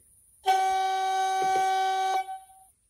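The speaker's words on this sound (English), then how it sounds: "function three is high tone air horn" A single sustained high-pitched high-tone air horn blast from a DCC sound-fitted OO gauge model Class 37 locomotive, about two seconds, clear and bright, from a small speaker, with a soft click partway through.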